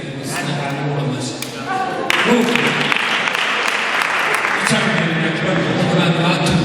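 Applause breaks out at a Rwandan wedding reception, a crowd clapping loudly and continuously, growing denser partway through, with voices mixed in.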